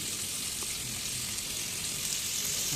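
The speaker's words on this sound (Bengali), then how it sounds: "দেখুন মাছটি ভালো করে ভাজতেছি" Hilsa fish frying in hot oil for a tomato curry, a steady broad sizzle that stays even and continuous throughout, fairly loud and close with no talking.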